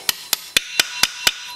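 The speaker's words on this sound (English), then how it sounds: "take the hammer, tap it till it bottoms out" Six evenly spaced hammer taps ring out sharply on a part during assembly of an air-cooled Honda Foreman 500 ATV engine, each a crisp metallic strike with a short ring, close and steady in rhythm.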